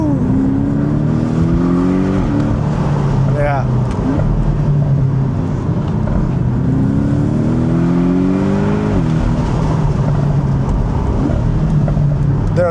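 A Porsche 718 Boxster GTS accelerates in PSM Sport, heard from inside the cabin. The exhaust drones loudly and rises in pitch through repeated gear pulls, with a brief voice over the engine.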